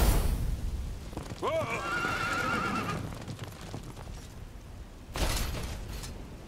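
Horses in the video game Dragon Quest XI give a loud rising whinny that trails off into a few seconds of fluttering neighs, followed by a burst of noisy impact sounds and hoof clatter.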